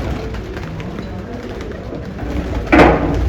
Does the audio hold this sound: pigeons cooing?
yes